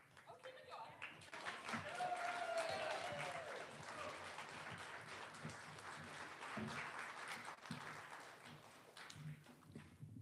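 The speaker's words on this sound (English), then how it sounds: "Isn't applause great?" Sustained applause from a crowd at a poetry reading, steady clapping filling the room for about ten seconds, with a brief whistle-like tone near the start.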